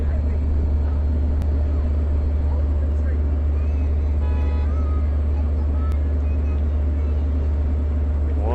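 A Long Island Rail Road locomotive idles at Westhampton Beach with a loud, steady low diesel rumble close by, a few faint squeaks and a voice talking over it.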